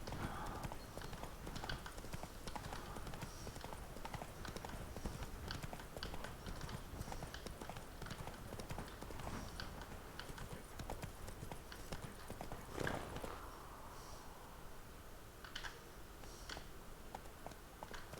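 Horse hooves clip-clop steadily through a Witcher 3 game scene, a continuous close rhythmic patter of a ridden horse's steps with faint game ambience and occasional louder accents, no one speaking over it.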